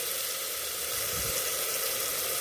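Garam masala, cumin and coriander frying for mutton curry, a steady hiss of oil and spices sizzling in the pan, constant and fairly quiet with a faint stir partway through.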